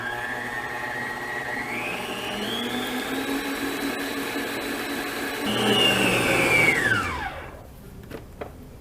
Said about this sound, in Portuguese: E agora nós vamos bater por aproximadamente 8 minutinhos, até essa mistura se transformar num creme leve e bem clarinho.